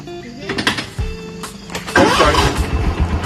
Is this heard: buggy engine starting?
yes